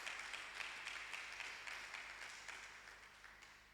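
A church congregation applauding, faint steady clapping from a crowd with scattered sharper claps, heard at a distance and slowly fading.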